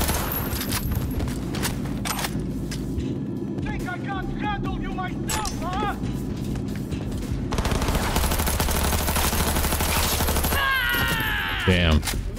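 Rapid submachine-gun bursts in the Cyberpunk 2077 video game, loud and dense over a steady game soundscape, with the firing intensifying toward the end.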